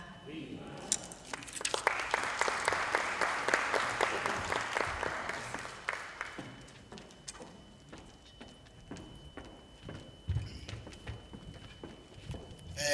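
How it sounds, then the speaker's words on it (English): Audience applause at a mayor's ceremony honouring top-performing schools and matriculants, a loud sustained round of clapping that swells then fades into scattered claps, with speech over the hall afterward. "another big round of applause for AfriSem"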